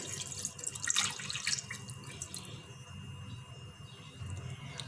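Water runs and splashes steadily into a pan, a continuous faucet-like stream with a brief louder gush early on, close and clear.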